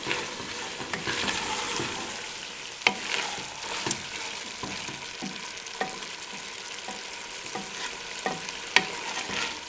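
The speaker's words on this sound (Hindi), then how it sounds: "अब इसको भी 2 से 3 मिनट के लिए अच्छे तरीके से भून लें" Mixed vegetables sauté in a pan with a continuous sizzle, broken by several sharp clicks and scrapes of a spoon stirring against the metal, close and fairly loud, with no speech.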